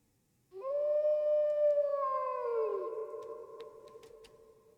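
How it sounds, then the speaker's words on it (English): A long, loud howl from the animatronic pirate fox Foxy in the horror game Dayshift at Freddy's, one sustained wavering cry that slowly sinks in pitch and fades, with faint clicks near the end. "I can hear him, Foxy the pirate, howling from the depths of the canyon."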